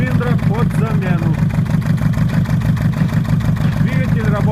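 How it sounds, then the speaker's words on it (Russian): A Mercedes Sprinter 904 diesel van with an OM611 engine runs on three cylinders with no knock, idling in a steady, uneven rhythmic chug while someone talks over it. "Двигатель работает на 3 цилиндрах. Без стука."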